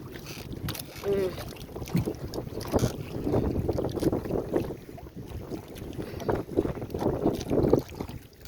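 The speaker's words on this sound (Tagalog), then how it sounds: "Magalaw ang aming bangka." Southwest monsoon wind buffets the microphone over sloshing water and the creak of a boat rocking on waves, with people speaking intermittently.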